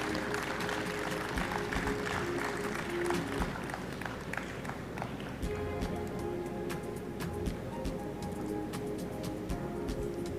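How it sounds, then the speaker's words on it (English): An audience at the Tobago Youth Awards 2023 ceremony applauds the winners with steady, continuous clapping over a soft tonal backing throughout. "Let's have a round of applause for all of our winners"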